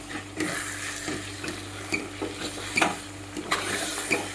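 Onion being mixed into a coarse Rajasthani garlic and red chilli chutney, a series of close scraping spoon strokes against a pan with a faint sizzle between them, no voices.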